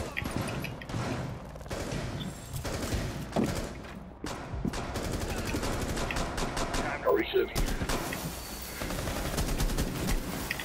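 Rapid gunfire in Tom Clancy's Rainbow Six Siege, with dense bursts of automatic shots, thuds and impacts mixed with game sounds over several seconds, while a voice speaks over the action.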